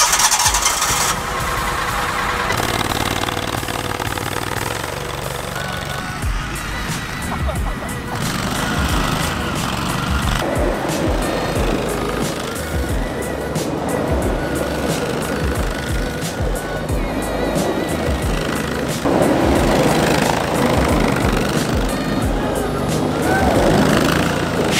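A six-wheeled safari vehicle's engine starts and keeps running, a steady close rumble with revving swells and rattles continuing throughout.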